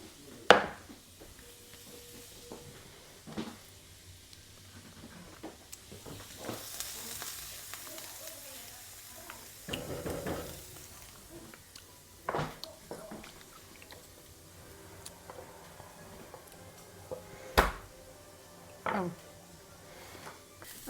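Onions frying in a pan for a paprika pork stuffed cabbage dish, with a low steady sizzle behind scattered sharp clinks and scrapes of stirring, and a voice talking at times.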